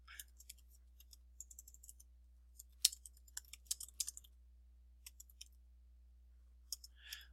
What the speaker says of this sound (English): simply begin typing your answers on the sheet that you open up